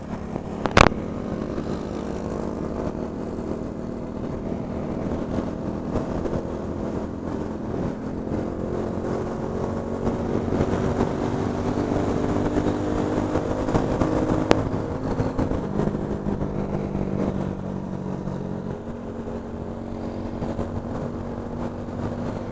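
Honda Biz 125 motorcycle riding along, a steady engine drone with a brief sharp click near the start and a slight pitch drop partway through, continuous and fairly loud throughout.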